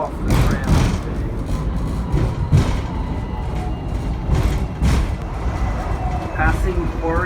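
A Hong Kong tram rolls toward Quarry Bay, a continuous low rumble with periodic thumps and rattles from the tracks, plus passing street traffic around the ride.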